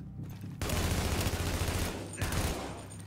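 Sustained burst of rapid gunfire in The Division video game, a loud dense volley after a short pause, briefly easing before another string of shots, no talking.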